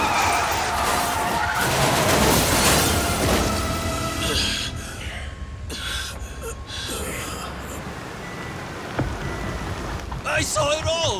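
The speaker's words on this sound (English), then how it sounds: "That black van just rammed right into that car!" Van ramming into a car in the video game Like a Dragon Gaiden: a loud crunching impact with skidding and a dense, noisy burst that fades into lingering debris and ambience, followed by a sharp clatter near the end.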